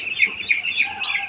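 Chickens on a poultry farm clucking in short repeated calls, close and fairly loud, a quick rhythmic chatter of several birds.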